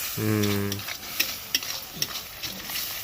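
Tomato and spice masala being sautéed in a pan with a splash of water, with close scraping stirs and soft sizzling after a brief hum of voice at the start.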